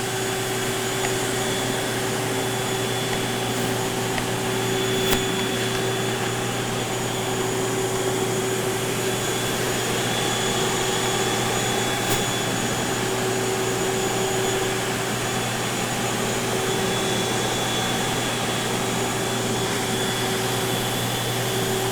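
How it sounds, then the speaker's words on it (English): A Bona Power Scrubber floor cleaning machine scrubs and vacuums a floor, giving a loud, steady, unbroken motor whine and suction roar with no pauses. "So I'm just going over with the vacuum and picking"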